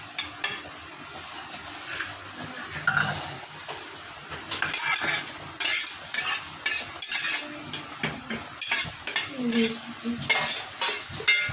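Mawa and dry fruits roast in a pan for chandrakala or gujiya, with a spoon scraping and clinking against the metal over a soft sizzle in steady, irregular strokes, close and moderately loud.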